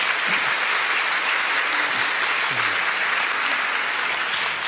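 A church congregation claps in welcome during a Sunday worship service, with steady, dense applause filling the room at an even level from start to finish.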